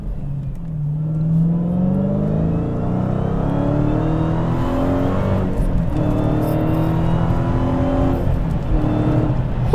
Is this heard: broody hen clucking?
no